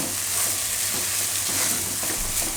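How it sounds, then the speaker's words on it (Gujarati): Sweet corn and paneer mixture cooking in a pan, a steady close sizzle and frying hiss with soft stirring scrapes throughout, no voices. "બધાને મિક્સ કરી લઈશું મકાઈને થોડીક વાર પકાવી લઈશું"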